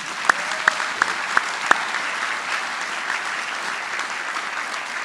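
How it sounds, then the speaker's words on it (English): Steady applause from a theater audience at a university convocation, a dense even patter filling the room with a few sharp louder claps standing out early on, no voices over it. "One more round of applause"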